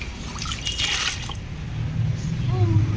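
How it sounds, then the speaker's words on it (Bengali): Water is poured over a child's head, a short splashing trickle that fades into soft dripping, with a quiet voice toward the end. "মাথায় জল দাও মাম্মা মাথায় দাও মাথায় দাও"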